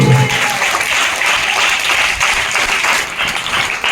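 A church congregation claps through a worship service in a loud, dense, continuous round of handclaps that carries evenly from start to finish.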